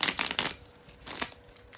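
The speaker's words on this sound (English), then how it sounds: "Let's do one more shuffle." A deck of tarot cards is shuffled close by in a few quick riffling bursts, soft papery flutters separated by short pauses, fairly quiet overall.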